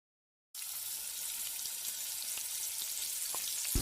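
Onions fry in a pan with a continuous close hiss that starts abruptly after a brief silence and holds steady, with faint clinks near the end and no talk.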